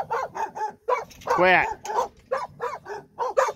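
Several guard dog puppies bark and yip in quick bursts close by, with a brief whining cry in the middle and a person speaking a single word.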